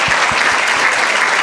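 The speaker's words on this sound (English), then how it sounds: "Round of applause for Becky" Applause from an audience thanking a speaker at a morning team session, a steady dense wash of clapping filling the whole moment at close range.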